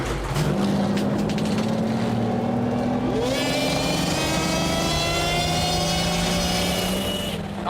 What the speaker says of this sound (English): Boys, let's start our engines.